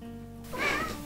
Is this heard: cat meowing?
yes